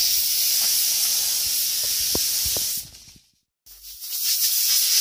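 Compressed air sprays from a nozzle while a motorcycle frame is cleaned before painting. A steady loud hiss with a few faint knocks underneath cuts off abruptly, pauses in silence, then resumes.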